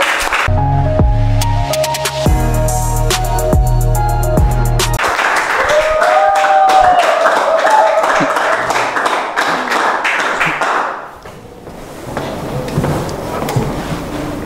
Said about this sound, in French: Mesdames et messieurs, on va applaudir très fort pour Gigor, le comédien.